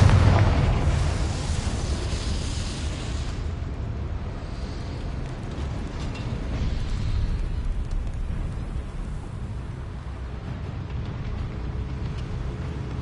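Confringo spell explosion in Hogwarts Legacy, a loud booming burst at the start that trails off into a long rumbling, crackling roar lasting many seconds.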